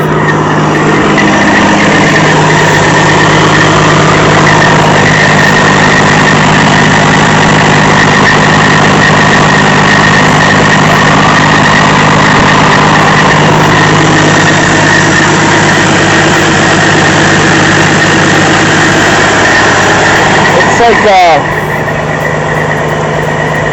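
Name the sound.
truck engine idling with high-pitched rattle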